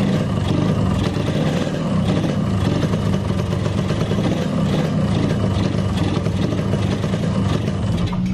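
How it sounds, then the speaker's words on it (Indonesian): A 1997 Yamaha RX King two-stroke motorcycle idles steadily during carburetor membrane tuning, a dense, continuous close-up engine drone with no pauses or revving, heard alone. "ini menyala motornya, nggak mati"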